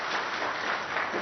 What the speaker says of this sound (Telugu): చప్పట్లతో ధన్యవాదాలు చెప్పాలని కోరుతూ